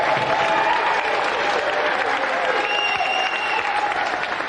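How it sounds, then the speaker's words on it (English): Studio audience applause on a 1992 television video game show, a continuous, even roar of clapping with faint crowd murmur underneath and no one speaking over it. "Round of applause here for Nick."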